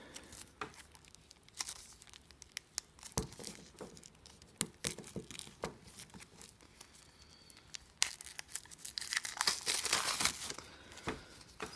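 Board game cards are pulled from their packaging, with tearing wrapper and crinkling plastic in irregular bursts, close and fairly quiet, growing busier toward the end.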